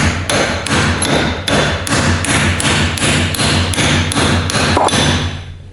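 A larger hammer delivers a series of about a dozen loud, evenly spaced blows while working on a D21 accordion's bellows, close and sharp with no talking.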